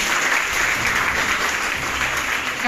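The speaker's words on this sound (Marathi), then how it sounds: "जोरात टाळ्या वाजवून स्वागत करा" An audience applauding loudly at a ceremony honouring students: dense, continuous clapping that stays at a steady level throughout.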